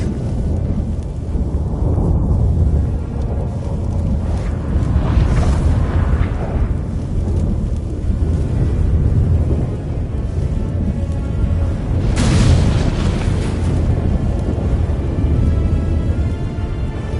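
Deep, sustained rumbling of a storm in The Witcher 3, a continuous low roar with swelling surges and a sharper crackling burst around the middle, loud and steady throughout with no talk.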